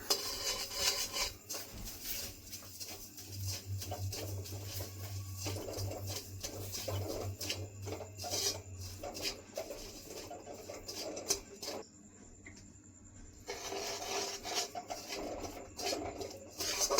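Spoon scraping and rubbing against a pan while caramelized sugar is stirred for a Bengali rice sandesh, a faint, continuous gritty scraping with occasional light clinks and a brief low hum, nearby and quiet.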